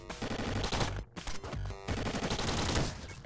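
Noppy gun firing in the video game Downwell: a fast burst of sharp, loud shots over busy game music, broken by a brief drop-out near the middle before the shooting and music resume.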